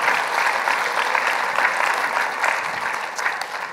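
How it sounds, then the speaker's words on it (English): A church congregation applauds during a sermon, a steady wash of many hands clapping at close to moderate distance, holding for nearly four seconds before easing slightly at the end. "give him the biggest round of applause you've given him in a long"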